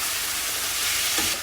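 Chicken pieces sautéing with ginger in a pan for coconut curry, giving a steady, close sizzle of frying in oil that swells briefly near the end.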